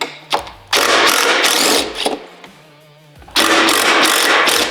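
A power tool whirs in loud bursts while taking out the headlight bolts on a Harley-Davidson Road Glide, with three close runs separated by short pauses.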